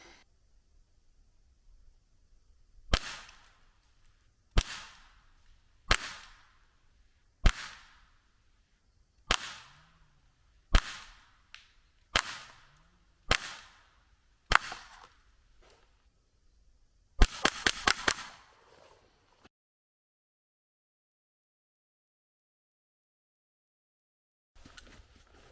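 Makarov 4.5 mm gas-powered air pistol firing at a target ten meters away: eight sharp, separate cracks a second or two apart, then a rapid cluster of shots in quick succession, followed by quiet.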